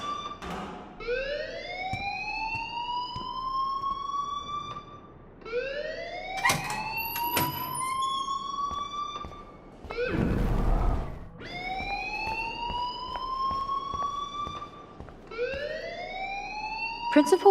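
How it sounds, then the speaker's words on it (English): A school alarm in the video game Life is Strange wails in repeated rising sweeps, steady and fairly loud, with brief pauses between cycles and a burst of noise midway, while voices talk beneath it. "please turn off that alarm since that's your job"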